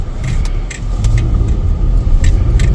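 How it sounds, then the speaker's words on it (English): A 2017 Kia Sportage with the 2.4 engine cruises on a short drive around the block, a steady low road and engine rumble with light rattles inside the cabin, smooth and fairly quiet. "It's not a loud engine either. It's pretty smooth."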